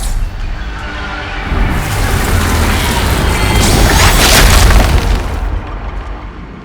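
An anchor structure is smashed apart in the video game Arknights Endfield, a loud crashing burst of rumble and debris that swells over several seconds and then cuts off.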